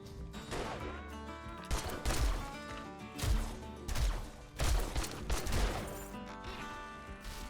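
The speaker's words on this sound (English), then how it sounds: "You're shooting me while you're on the ground!" Bursts of gunfire during a bandit raid in 7 Days to Die, with repeated loud volleys of rapid shots and crashes in clusters through the clip, over a dense, busy game mix.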